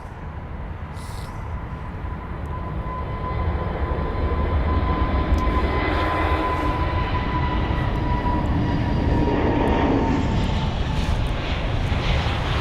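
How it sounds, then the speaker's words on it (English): A British Airways Airbus A320neo departs London Heathrow, producing a steady, broad jet engine roar that swells and holds at a distance for over ten seconds, with no voices. "This here is going to be BA312 heading to Oman, the A320 Neo"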